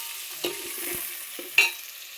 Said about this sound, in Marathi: हे बघा चांगलं तेलात परतायचं बघा